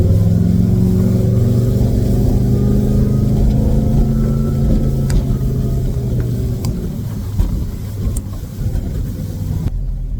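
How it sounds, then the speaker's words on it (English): Boat engine idling while warming up to operating temperature, a loud, steady low rumble with a slight rise in pitch midway, running alone close by before cutting off abruptly at the end. "I let my engine get up to operating temperature"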